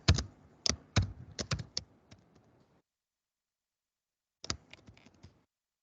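Computer keyboard typing in short bursts of close, crisp key clicks, a quick run followed by a silent gap and then a few more keystrokes.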